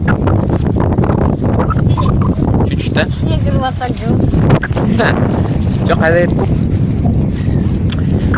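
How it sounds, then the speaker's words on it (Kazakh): Strong wind at a lake in Kazakhstan buffets the microphone with a loud, constant low rumble as people talk over it. "жел соғып, кешіріңдер, мына жақ жел"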